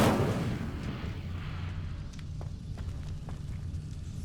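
Incendio fire spell cast in Hogwarts Legacy, a loud burst of flame at the start that fades into a low rumbling roar with a few faint crackles.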